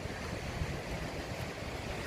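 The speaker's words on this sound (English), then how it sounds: "Fair bit of water flowing through that river at the moment." A river in full flow along a trail near the Lower Arahura Hut, a broad steady rush of water with wind-like noise, continuous and fairly close.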